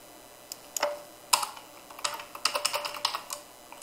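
A computer keyboard being typed on at close range, a short series of crisp key clicks arriving in irregular bursts, quiet between strokes, with no voice.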